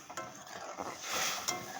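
Fish and potatoes frying dry in a pan with no water, giving a soft, steady crackling sizzle with light stirring scrapes and a faint clink, fairly close and without talk.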